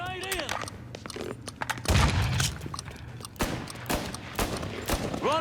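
Grenade blast and bursts of gunfire in the Mafia III Stones Unturned DLC, with a heavy boom near two seconds amid repeated sharp shots throughout, loud and close, while game voices speak over the fighting.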